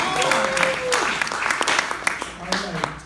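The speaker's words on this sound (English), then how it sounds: "Let's hear a round of applause for families." Scattered applause from a comedy club audience at a standup show, moderately loud and uneven, with a few individual claps standing out and some voices mixed in.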